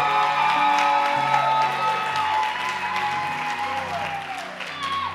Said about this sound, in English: Come on, clap your hands.